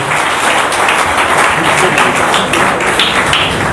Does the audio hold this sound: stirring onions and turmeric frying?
no